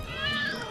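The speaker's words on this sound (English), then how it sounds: "Hope you like cats." A single short, clear meow from a cat, close and fairly loud, rising and falling in pitch.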